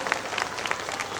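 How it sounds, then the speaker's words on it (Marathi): A crowd claps at a public welcome event, with dense, steady applause holding at moderate loudness throughout the short stretch and no voices standing out. "टाळ्या वाजवून मोठ्या प्रमाणात त्यांचं जंगी स्वागत करावं असं मी विनंती करतो"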